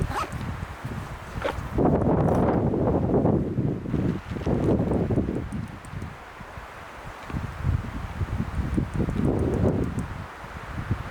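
Strong wind gusts roar outdoors in the Idaho wilderness, rising and falling in loud buffeting waves against the microphone along with faint rustling, with no one speaking.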